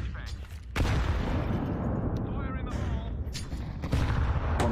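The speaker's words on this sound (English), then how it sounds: "Throwing flashbang. Fire in the hole." Blasts and crackling gunfire in Counter-Strike 2 as a flashbang grenade is thrown and detonates, loud booming hits recurring over several seconds amid continuous gameplay noise and a player talking.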